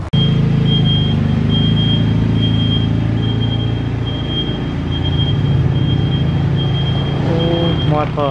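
Engine and road rumble from a van cruising along, steady and close throughout with a constant tonal whine, heard from inside the cabin.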